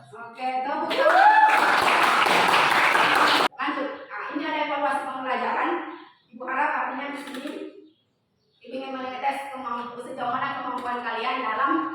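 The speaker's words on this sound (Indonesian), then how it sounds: "Oke, tepuk tangan." A school class claps together in a short, dense burst of applause lasting a couple of seconds. A teacher then talks over a quiet room.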